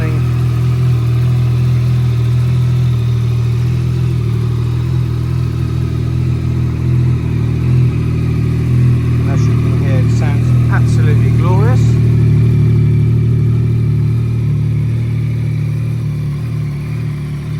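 A Yamaha XSR900 GP motorcycle engine idles close by with a loud, steady, deep hum that barely changes over the whole stretch.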